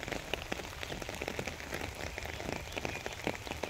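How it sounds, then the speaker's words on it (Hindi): Light rain patters steadily on a surface in a village, with soft irregular drips close by and no voices. "आप देखें हल्की हल्की बारिश हो रही है"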